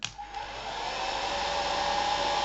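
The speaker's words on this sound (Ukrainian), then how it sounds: "Вентилятор зараз дує, охолоджує електроніку." Cooling fan inside a 12/220 V pure sine wave inverter from Aliexpress, running under load, blows with a steady, close, continuous whoosh and a faint tonal whine, sustained throughout with no speech.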